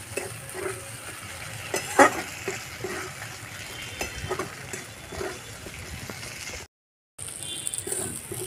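Spice paste for a banana flower curry fries in a pan with a soft, steady sizzle while a spoon stirs and scrapes in bursts, one sharper clink standing out, before a brief dropout near the end.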